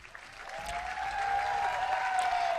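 An audience applauds the student athletes, coaches and staff at the 2023 Division II softball championship between North Georgia and Grand Valley State. The clapping is steady and broad and swells slightly midway, and a thin steady tone runs underneath.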